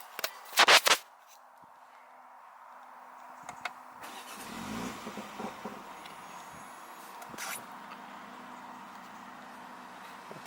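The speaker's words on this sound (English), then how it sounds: "So here we go, the first startup of the car." A 2020 BMW M135i F40 turbocharged four-cylinder cranks and fires with a short loud burst, then settles into a steady idle hum, with a few faint clicks and thumps nearby.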